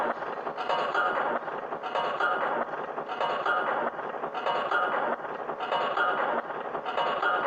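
Train wheels clattering over rail joints in the video game Half-Life, a loud, steady rhythmic clickety-clack repeating roughly every second, heard alone.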